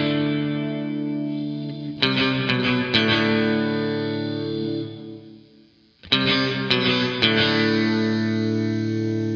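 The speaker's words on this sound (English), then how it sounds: "the bandwidth toggle is going to turn down the sample rate reduction on the reverb, so it gives you that odd digital robot sound" Source Audio Artifact Lo-Fi Elements pedal in uVerb mode, with sample rate reduction on the reverb, gives sustained guitar chords a grainy, metallic robotic shimmer; two strummed phrases ring out and decay, with no talking.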